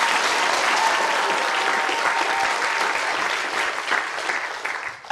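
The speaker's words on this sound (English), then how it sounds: "a round of applause for Catherine, please" Loud, sustained applause from a large lecture-hall audience at the Royal Institution Christmas Lectures, a dense, even roar of clapping that fades slightly at the end.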